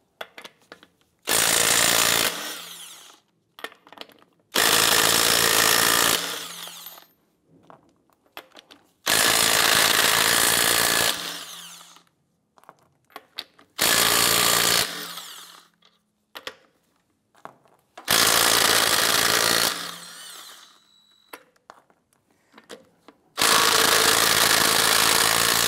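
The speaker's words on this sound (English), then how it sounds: "let's go ahead and loosen and remove our lug nuts" An impact wrench with a 22 mm socket loosens and removes wheel lug nuts on a 2015-2020 Cadillac Escalade, six loud bursts of hammering rattle, each a second or two long, separated by quiet gaps.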